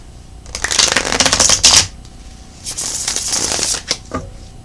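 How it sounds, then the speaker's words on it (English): Tarot cards being shuffled in two quick riffling bursts separated by a short pause, crisp and close with no voices. "One more shuffle."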